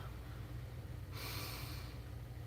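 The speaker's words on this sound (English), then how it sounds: "take a deep breath" A single deep breath drawn in with an audible rush of air, close and fairly loud against a low background hum.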